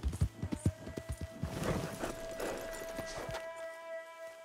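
Horse hooves clip-clop in quick, even beats in the video game Red Dead Redemption, fairly faint against a steady tonal hum, then fading out near the end.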